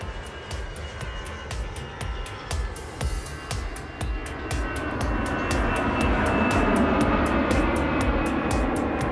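An airplane's engines roar close by, a rising, intensifying drone with rhythmic pulsing clicks, building steadily louder as the aircraft approaches.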